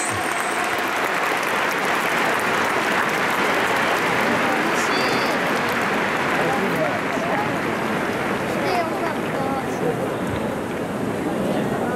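Stadium crowd applauding after a ceremonial first pitch by Masanori Murakami at a baseball 150th anniversary ceremony in Japan, broad sustained clapping that stays loud and even throughout, with faint voices underneath.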